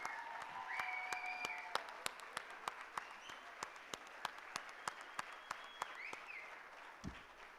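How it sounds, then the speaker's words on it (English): Parents at a university convocation applaud their graduating children in a large hall, a steady clapping wash with distinct individual claps popping out, while faint tones and a low thump sound in the background. "I want all parents to quickly stand up and give a big round of applause to your ward who has done a brilliant job."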